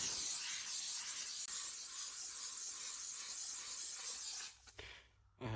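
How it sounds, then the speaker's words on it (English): A handheld upholstery steamer hisses steadily and loudly at close range while passing over car seat fabric, a continuous rushing spray that cuts off abruptly near the end, leaving near silence. "You're gonna wanna take your steamer, make sure it's steaming,"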